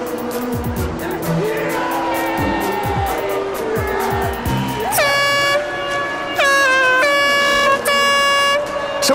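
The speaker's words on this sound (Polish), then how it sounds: "No powietrze, sprężone powietrze." Loud blasts of compressed air sound as a blaring air horn, with several sustained honks in the second half over a noisy background of traffic-like rumble.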